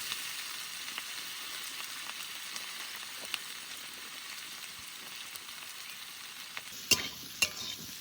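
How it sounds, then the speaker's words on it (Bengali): Potato and elephant foot yam pieces stirred in a pan of hot oil with turmeric, giving a steady soft sizzle with light scraping and a couple of sharper clicks near the end, no voices. "হলুদ দিয়ে একটু নাড়াচাড়া দিয়ে নিলাম"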